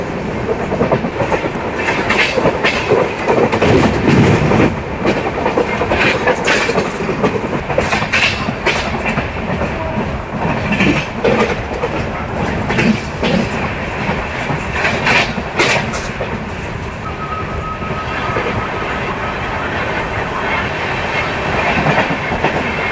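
Onboard the Venkatadri superfast express (Chittoor–Kacheguda) running on rails between Pakala Junction and Tirupati: a steady, loud rumble with rhythmic clickety-clack of wheels over rail joints that continues throughout, with no talking.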